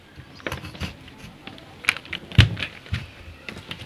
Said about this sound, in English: Then cut it with knife as I do.